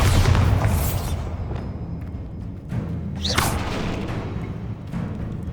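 A Bombarda blasting spell in Hogwarts Legacy: a heavy booming explosion up front, then a whooshing swish and a second thudding blast, loud over game ambience with no talking.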